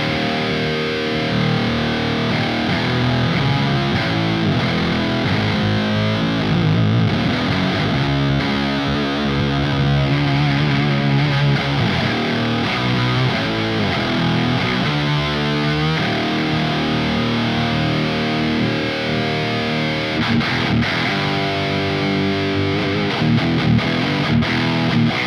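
Electric guitar played through heavy distortion on a Neural DSP Archetype Gojira amp plugin, loud and continuous with dense chugging riffs and sustained chords throughout.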